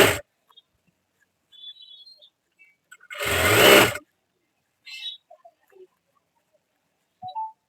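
A sewing machine stitching a folded blouse lining gives one loud, close, steady whirring burst lasting under a second, with brief faint clicks and handling noises before and after it.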